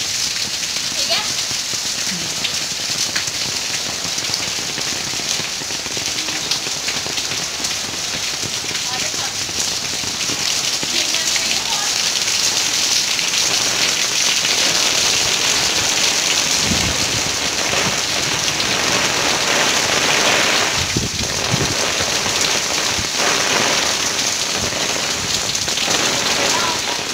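Heavy rain pours steadily and loudly throughout, a dense hiss of drops on surfaces with occasional low rumbles beneath.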